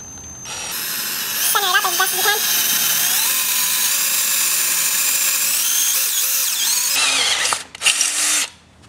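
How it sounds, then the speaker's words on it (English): A loud power drill whines continuously, pitch shifting as it bites into a scooter deck, then stops with a few clunks near the end. "So you wanna drill right in front of it."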